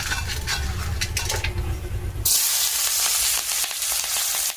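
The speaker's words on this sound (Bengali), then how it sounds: "এদিকে দেখো ঢ্যাঁড়স আলু ভাজাটা হচ্ছে" Okra and potatoes fry in oil in a wok: stirring clatter and low scraping first, then a sudden loud, bright hiss of sizzling that stays strong and close to the end.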